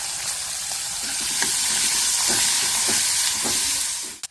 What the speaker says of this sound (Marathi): रंग बदलला ना आता कांदा घालायचा